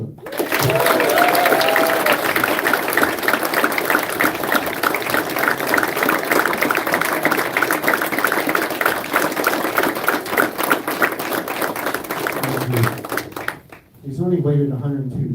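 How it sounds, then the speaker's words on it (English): Audience applause at a French Legion of Honor ceremony, a long dense burst of clapping from a crowd that holds steady for several seconds and then fades into a voice speaking. "the biggest applause goes to Master Sergeant Addison Sheckler"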